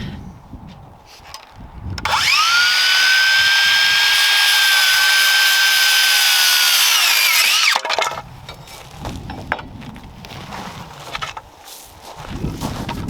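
A power saw whines loudly and steadily for several seconds cutting wood outdoors in 20 mph winds, its pitch dipping slightly as it cuts, then winds down; quieter handling noises before and after.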